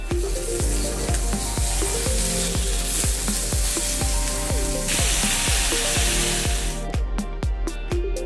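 Yakitetsu sukiyaki cooking at a restaurant table, a loud continuous sizzle of food on a hot pan with repeated clicks and taps of utensils, close and dense throughout, no talking.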